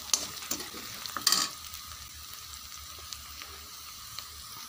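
Vegetables sauté in a pan, opening with a few clattering stirs and scrapes of a utensil, then settling into a faint, steady low sizzle with no voices.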